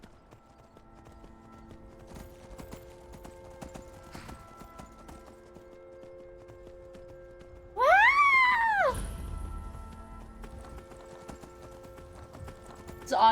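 Horse hooves clip-clopping in a rapid, steady rhythm in a video game, with a loud rising whinny partway through; a woman exclaims briefly over it.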